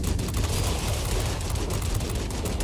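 Rapid, continuous aircraft gunfire from a Japanese Army Zero fighter in the World of Warplanes game, a dense rattling stream of shots over a deep engine rumble, loud and steady throughout with no voices.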